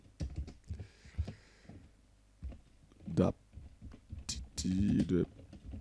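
Light keystrokes on a computer keyboard while typing a document in MS Word. The clicks come in quiet irregular runs, heard under and between someone speaking French.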